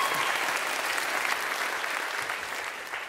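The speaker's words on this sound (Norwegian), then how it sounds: "Vi klapper for alt i dag." Steady audience applause at a festival award ceremony, a dense wash of many hands clapping evenly from start to finish, moderately loud with no talk over it.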